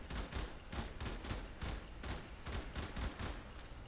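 Burst-fire weapon shots in the Warframe video game come in rapid repeated volleys, loud and punchy, with brief pauses between groups of shots.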